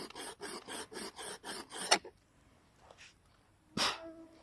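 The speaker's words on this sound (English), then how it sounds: "And just do like this, back and forward. This is the most safe way" An axe blade is sharpened by hand with quick back-and-forth strokes: about eight rhythmic rasping scrapes, then a pause and one more stroke.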